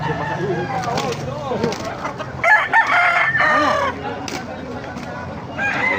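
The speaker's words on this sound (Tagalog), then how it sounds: "Pasukin natin lo para makita yung mga manok." Several roosters crow loudly nearby amid clucking hens, the crows overlapping in a busy, noisy poultry market in Baliuag, Bulacan.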